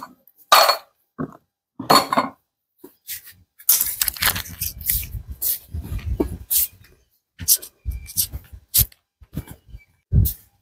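Metal utensils and dishes clatter and clink in irregular bursts, some sharp single clinks and a longer stretch of jangling, close and fairly loud, with speech mixed in.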